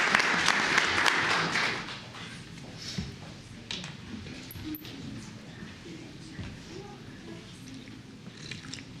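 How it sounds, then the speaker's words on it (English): Applause at a Commissioners Court meeting, a short burst of clapping from the room that fades after about two seconds into quieter shuffling and room noise. "So if we can give them a round of applause"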